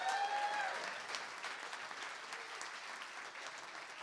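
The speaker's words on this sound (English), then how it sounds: "Round of applause." An audience at a live show in an arts centre breaks into applause, a sustained patter of clapping that fades gradually toward a quieter level.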